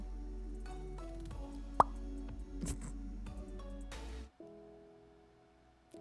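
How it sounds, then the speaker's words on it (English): A single short pop cuts sharply through soft background tones, followed by faint clicks and a quieter electronic hum near the end. "That little pop sound is making me want to pop."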